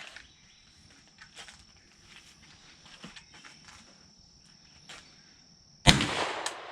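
A 9mm pistol fires a single loud shot of steel-cased full metal jacket target ammo at an outdoor range, the sharp crack arriving after several seconds of quiet insect chirping and light shuffling.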